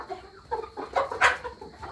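Free-range hill chickens cluck in short, uneven bursts close by, the calls rising to a louder squawk midway, with faint farmyard background noise.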